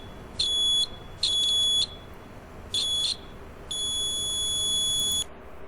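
A battery-powered piezo buzzer sounding a shrill electronic tone in four bursts, three short beeps and then one longer sustained tone, loud and close over a quiet background.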